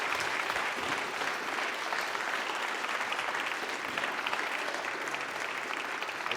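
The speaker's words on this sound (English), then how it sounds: "Can we just finish up, guys, with a huge round of applause here for Jordan and" Audience at a community centre film screening and Q&A gives a sustained round of applause, a dense even wash of many hands clapping for several seconds, fairly loud and without talk.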